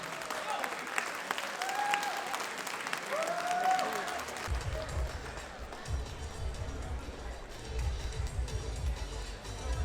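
Applause fills the hall as a Telugu cultural association's Ugadi celebration welcomes a golden jubilee convener onto the stage; steady crowd clapping runs throughout, under a low rumbling background in the second half.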